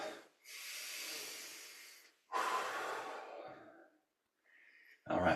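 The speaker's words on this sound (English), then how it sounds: "Take a few breaths." Two long, deep breaths taken while standing during a sun salutation stretch, each a drawn-out airy inhale or exhale lasting about two seconds, close and clear, followed by a softer breath and a sharp sniff at the end.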